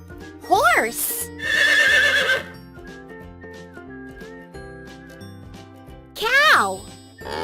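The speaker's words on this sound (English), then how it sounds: "Horse." A horse whinnies twice, a high descending neigh near the start and again near the end, with a cartoonish puzzle-game jingle and soft music playing between the calls.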